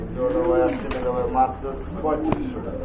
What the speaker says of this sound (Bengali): খুবই সুন্দর বিগ সাইজের অনেক বড় সাইজের কবুতর